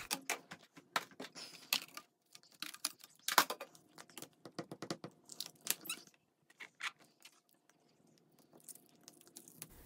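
A rubber stamp pressed onto layered cardstock with archival ink, lifted and pressed again: clusters of close, crisp tapping and rustling contacts in quick bursts, fairly faint, with quiet gaps between.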